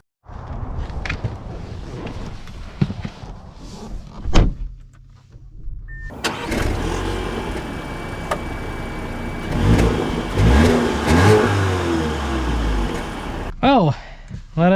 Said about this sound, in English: let us set off in the A4 All-Road